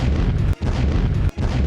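A heavy explosion in Pakistan in news footage, a loud sustained roaring blast with deep rumble that fills the whole stretch, broken by two brief cut-like gaps, with no voices.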